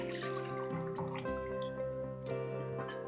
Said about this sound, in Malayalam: 1 കപ്പ് പാലാണ് ഒഴിക്കുന്നത്.